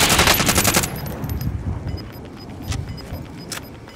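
Rapid automatic gunfire bursts loudly in the Warzone battle royale game, then gives way to scattered distant shots and faint clinks.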